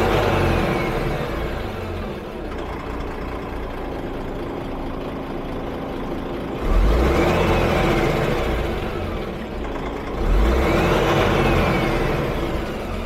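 A DAF truck diesel engine idles steadily, then is revved twice in quick succession, each rise in revs loud and close before settling back to a rumbling idle, with no talking.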